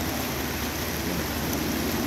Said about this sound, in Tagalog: Ulan na po.